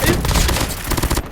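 Rapid gunfire in a video game crackles as a dense, loud volley of overlapping shots, cutting off abruptly at the end.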